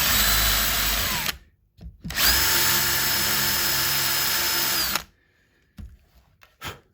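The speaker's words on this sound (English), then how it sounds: "So I'm going to drill and increase the size of the thing." A power drill whines loudly in two long bursts separated by a brief pause while enlarging a hole on a DIY guitar kit, then stops, leaving quiet with a few faint clicks.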